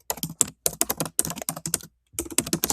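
Rapid typing on a computer keyboard, a close, crisp flurry of key clicks in uneven bursts with a brief pause partway through, heard alone.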